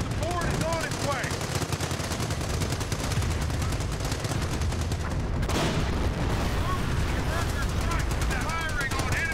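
Dense artillery and machine-gun fire support rages in a Company of Heroes battle, with rapid continuous bursts of gunfire and heavy booms, loud and unbroken, while voices are partly heard in the din.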